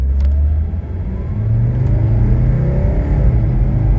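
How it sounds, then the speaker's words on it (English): A 1979 Mercedes 300SD diesel accelerating hard from 0 to 60 on a highway on-ramp, with a loud, steady rumbling engine whose pitch climbs through a gear shift, heard from inside the car with no talk. "I'll try to do a 0 to 60 test up here"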